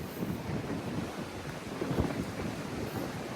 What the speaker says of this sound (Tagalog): Malimlim, mahangin.